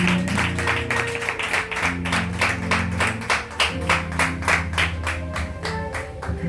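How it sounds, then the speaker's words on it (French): An audience claps together in steady rhythmic unison, loud and close, with a low drone of music continuing underneath. "Acclame."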